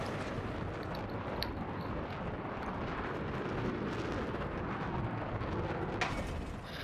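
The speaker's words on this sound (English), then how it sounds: "There's that cannon again, which is the trick." Battlefield 4 Conquest gameplay carries a dense, continuous roar of cannon fire and explosions, loud and steady throughout with a sharper blast near the end, and no voices.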